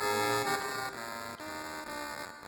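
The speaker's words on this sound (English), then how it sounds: "the bit crusher is what's making this really" A harsh, buzzy synth tone distorted by a bit crusher, with gritty digital distortion, steady and loud throughout, with a brief dip midway.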